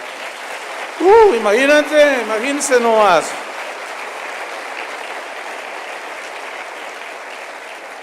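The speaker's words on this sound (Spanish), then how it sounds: "Eso merece un aplauso para el Señor" Church congregation applauding in praise, a steady wash of many hands clapping that continues under a speaker's voice at first and then carries on alone.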